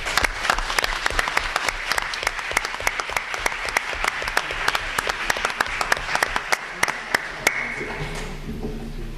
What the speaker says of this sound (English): So let's give one more round of applause to this amazing